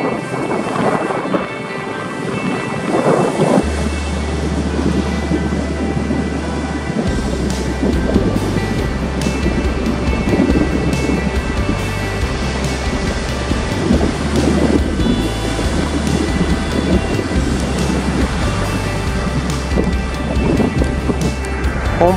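Strong wind buffets an uncovered camera microphone at a Japan Sea surf beach, a loud, continuous rumbling roar with gusting swells throughout and no voices.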